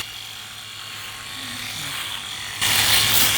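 A Philips Series 5000 electric shaver buzzes over stubble in a low, steady hum, quiet at first and then turning noticeably louder and harsher near the end as it cuts.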